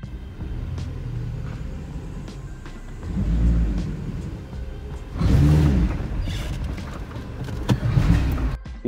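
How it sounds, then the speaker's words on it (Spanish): A Lancia Musa with a transmission fault runs with an annoying exhaust pipe noise: a low, steady engine rumble that swells louder around the middle and again toward the end. "Y el sonido del tubo de escape es molesto."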